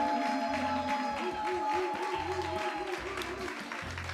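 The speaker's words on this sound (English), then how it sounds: "Give me a warm, solid hand clap of applause for my dog," A live-stream audience claps for a performer, a thin burst of applause under a droning, music-like backdrop with intermittent low thumps.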